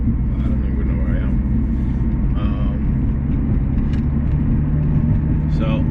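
Steady low engine drone and road rumble heard from inside a moving car, loud and continuous, with someone talking over it throughout.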